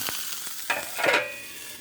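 Hamburger steak with onions sizzling and frying steadily in a covered pan, a continuous hiss with a few soft pops and clinks, close and alone.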